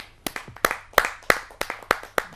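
Scattered hand claps at a Hindi poetry gathering as a poet is welcomed, about eight distinct, sharp claps in a loose, uneven rhythm, close and separate rather than a full ovation.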